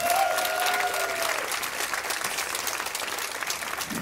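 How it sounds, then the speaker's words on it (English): Audience applause fills the hall at the final show of the OGAE Second Chance song contest 2018, a steady wash of many hands clapping with crowd noise, while a brief melodic tone fades out near the start. "So let's give them all a round of applause for the great job."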